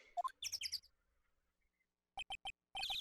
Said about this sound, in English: Weird bird noises.